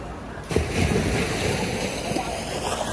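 Sea waves roll onto the beach at Hai Ly in Nam Dinh, Vietnam, as a continuous, loud, broadband surf roar that swells slightly after a quieter start.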